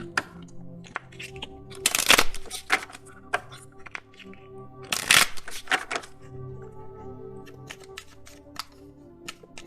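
Oracle cards are shuffled by hand, close and crisp, with two louder riffling bursts among a run of scattered light flicks and taps.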